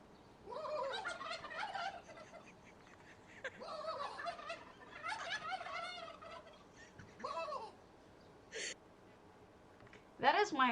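At a turkey enclosure, a man imitates turkey gobbles with his voice and live turkeys gobble back in several rattling bursts, the calls alternating with pauses and a faint voice nearby.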